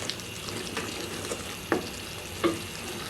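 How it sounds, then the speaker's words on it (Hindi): Potatoes and capsicum with spices stir-fry in a pan, giving a soft continuous sizzle. A spoon scrapes and taps the pan now and then, and one sharper scrape stands out near the end. "तकरीबन 1 मिनट के लिए हम इसको भी अच्छे से भून लेते हैं।"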